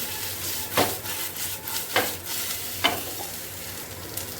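Pieces of taro (kochu) fry in a pan for a Bengali kochu bhaja, giving a steady low sizzle broken by three distinct scrape-and-stir strokes. The pan sounds close, with no talking.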